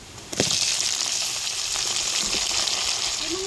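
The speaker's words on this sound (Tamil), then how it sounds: "தக்காளியும் கத்திரிக்காயும் இந்த எண்ணெயிலே வதக்கி எடுத்துக்குவோங்க" Tomato and brinjal fry in hot oil with a bright, continuous sizzle. A sharp hiss bursts out at the start as they hit the pan, then settles into a steady crackle with no talking.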